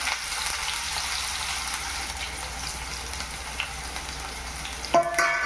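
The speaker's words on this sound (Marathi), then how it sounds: "कांदा आपल्याला व्यवस्थित भाजून घ्यायचं" Finely chopped onion fries in hot oil with whole spices in a home kitchen, making a steady, dense sizzle that carries on throughout with no voices.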